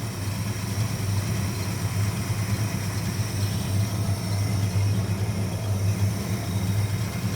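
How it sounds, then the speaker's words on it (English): A 1956 Ford F-100 truck engine idles steadily after a cold start with a smooth, deep low rumble, constant and close, with no voices. "you can see how smooth it's idling. That's a cold start as well."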